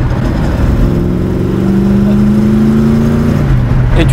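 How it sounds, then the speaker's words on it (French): A 1968 Ford Mustang Fastback engine drones loudly up close, rising and holding in pitch as it revs, with rumbling road noise underneath. "Je suis très content de conduire une Mustang fastback."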